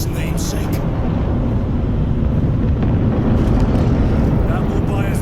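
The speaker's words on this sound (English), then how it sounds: "I hear engines. There. The Sword of Atreus lives up to its namesake." Spaceship engines of the Sword of Atreus in the Space Marine 2 game, a steady, loud low rumble and roar that fills the whole stretch with a wind-like hiss on top.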